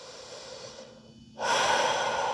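A person holding a plank during a power yoga flow takes a soft breath, then a louder, sharp breath in through the nose, close to the microphone.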